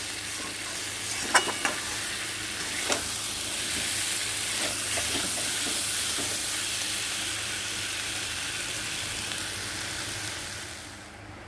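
Pumpkin and potato fry with spices and salt in a continuous close sizzle, with a few sharp spoon taps early on, before the sound fades at the end.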